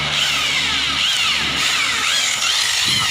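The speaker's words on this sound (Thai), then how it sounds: "ก็ไปดูพี่เขาขัดครับ" A machine polisher buffs car paint with polishing compound, a loud, close, continuous whirring whine whose pitch slides up and down as the pad works across the panel.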